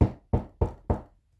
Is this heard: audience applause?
no